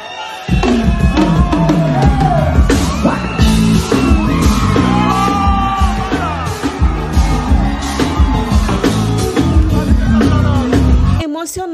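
A large crowd at a Brazilian forró concert yells and cheers loudly and continuously over music, with a voice shouting over it.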